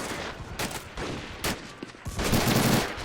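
Battlefield gunfire crackles in Men of War: Assault Squad 2 during a 1944 US Marine beach landing at Saipan, with scattered rifle and machine-gun shots and a heavier burst near the end, somewhat distant and muffled.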